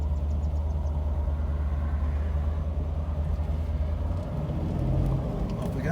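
A 1969 Shelby GT500 idles with a deep, steady rumbling burble, close and continuous, with a slight dip and brief rise in engine note toward the end.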